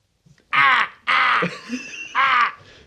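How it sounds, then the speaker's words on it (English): A crow caws loudly and close by, three harsh separate calls spaced about half a second apart with a softer murmur between them. "There was that bird as well that wouldn't go away."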